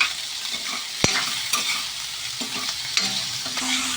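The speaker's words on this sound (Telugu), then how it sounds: "ఆనియన్స్ ఎరంగా ఫ్రై అయిపోవాలి అంటే దానికి మనం టేస్ట్కి తగ్గ సాల్ట్ అయితే వేసేయాలి" Onions fry in a pan with a soft continuous sizzle, broken by close scraping and clinking as a utensil stirs them now and then.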